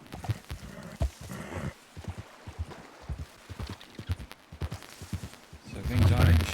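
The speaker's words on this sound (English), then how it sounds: "I don't know how to ride my horse anymore." Horse hooves clip-clopping at an uneven walking pace in a Red Dead-style Western game, with voices talking over the steps and a louder low rumble near the end.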